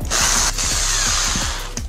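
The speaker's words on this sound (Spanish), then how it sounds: "Vamos a hacer otro agujero aquí para el cable." Electric drill boring a cable hole in a handmade lamp, a short loud whirring burst with rapid rhythmic clicks, heard alone without talk.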